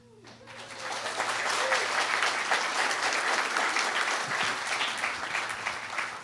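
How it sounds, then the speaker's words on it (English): Audience applause fills a lecture hall after a spiritual talk, a dense steady wash of clapping that swells in within the first half second and holds loud and even to the end, with a low hum underneath. "We trust that you know you are applauding for yourselves."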